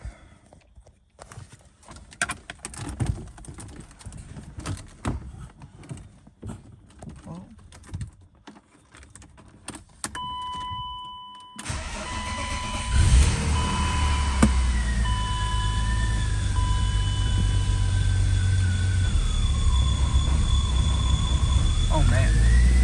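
A BMW E36 M3 starting after new spark plugs: scattered clicks and handling noises come first, then the engine fires with a loud burst and runs at a steady idle with a whining tone, while a person talks.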